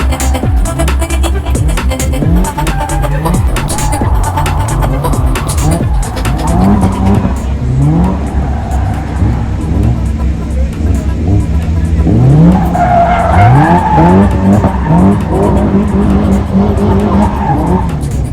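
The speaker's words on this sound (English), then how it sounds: "see how I've managed to master doing donuts" A Caterham Seven doing donuts on track, its engine revving hard while the tyres squeal and skid in long sweeping bursts, loud and close throughout, with the pitch rising and falling as it spins.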